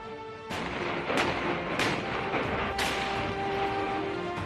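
A Bofors artillery gun fires four heavy booms in steady succession, each blast followed by a long rumbling echo that fills the gaps, loud and with no voices.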